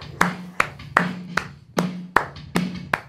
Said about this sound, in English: Let's see if we can clap to this heartbeat of music.